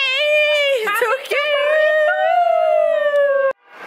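A puppy howls loudly and close by, one long rising and wavering whine with a brief whimpering break, then it cuts off abruptly.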